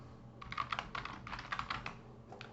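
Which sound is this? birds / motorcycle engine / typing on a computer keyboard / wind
typing on a computer keyboard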